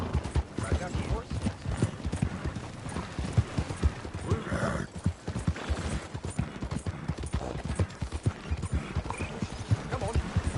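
Horse hooves clip-clop steadily in Red Dead Redemption 2, a close, regular beat with a brief whinny partway through and game voices talking over the hoofbeats.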